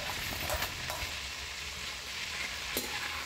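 Onions fry in cooking oil for pork adobo, a quiet, steady sizzle with a few sharp crackles and stirring scrapes close by.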